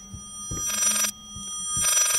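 Old-style telephone bell ringing insistently in the horror game Layers of Fear, sounding in two shrill bursts separated by a pause over a low ambient drone and soft thumps.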